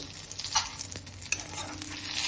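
Roasted chutney ingredients for radish chutney, including tamarind, stirred in a pan, a brief close sizzle with a couple of sharp spatula scrapes, no talking.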